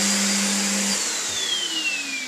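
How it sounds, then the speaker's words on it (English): A vacuum cleaner runs steadily and close by, a loud broadband whoosh with a high whine that slowly drifts lower in pitch. "All right, it's a vacuum cleaner."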